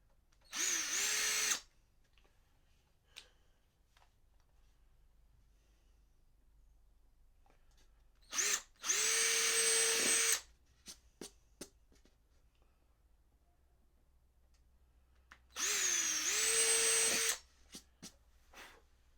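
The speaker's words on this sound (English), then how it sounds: "So let's drill the top." A power drill bores holes into a guitar top in three separate bursts, each lasting a second or two, with a sharp whine that spins up and winds down, separated by quiet pauses and a few small clicks.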